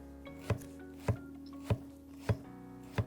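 A knife slices raw potatoes and zucchini thin for a frittata, five evenly spaced sharp chops against a cutting board, close and clear over a faint background hum.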